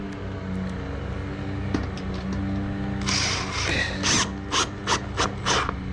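Screws being driven to fix a gutter bracket against zinc guttering, heard as steady grinding and ratcheting over a humming background, followed by several short sharp bursts near the end, close and fairly loud.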